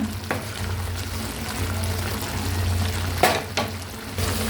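A meal maker gravy seasoned with garam masala and chicken powder bubbling in a pan, a steady soft sizzle and simmer close by, with a few brief clinks or stirring sounds.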